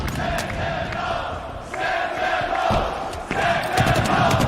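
A packed esports arena crowd in Kansas City roars and cheers during the Halo Infinite grand finals between Cloud9 and Sentinels, a dense, sustained wall of shouting that surges louder toward the end.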